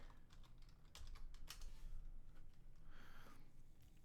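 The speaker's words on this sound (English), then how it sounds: "Gotta type in the password correctly." A password is entered on a computer keyboard in a short series of soft, close keystrokes over a steady background hum, with no one speaking.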